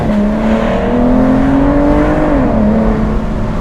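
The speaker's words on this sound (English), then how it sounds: "let's step on it a little bit and hear the V12." Aston Martin DBS V12 with a ZF automatic accelerating from inside the car, a loud, smooth engine note rising steadily in pitch, dipping briefly at a gear change, then climbing again, with no talk.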